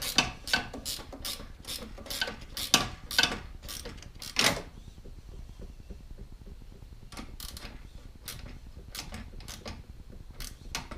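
A hand ratchet clicks in quick, bursty runs while snugging down a nut on the air box of a 1987 Buick Grand National, close and crisp, with pauses between strokes.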